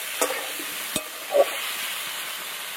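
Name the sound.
stirring potatoes with garlic paste and tomato in pan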